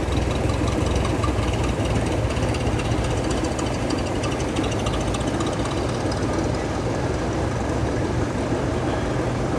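An antique Franklin car's engine runs loud and close at a brass-era car show, a dense continuous mechanical clatter and rumble that holds steady throughout, with no talking.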